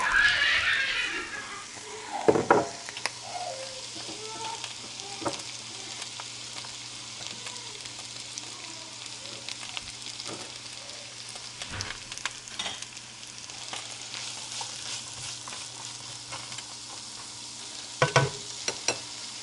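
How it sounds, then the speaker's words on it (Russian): Onion frying in a pan for a broccoli vegetable soup, a steady broadband sizzle running throughout with a few louder stirring clatters near the start and end, no voices. "обжариваю лук."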